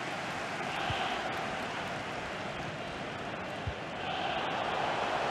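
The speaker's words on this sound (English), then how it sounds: "it's been a wonderful atmosphere in this stadium the crowd have not been short of excitement" Stadium crowd in FIFA 19 at a Wales v Sweden European Championship qualifier, a broad, steady roar of many voices with swelling chants, continuous and moderately loud beneath faint commentary.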